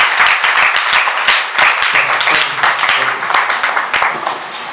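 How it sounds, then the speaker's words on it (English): Audience applause at a debate event honouring a retired professor of library science, dense steady clapping from a crowd, loud and sustained, with a few voices briefly audible underneath. "Let's give her a round of applause again."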